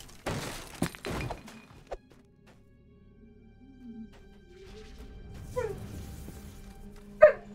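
A dog barks and yips indoors in a room, with sharp short bursts near the start, a quiet stretch with faint whimpering, then a few more yelps and a final loud bark.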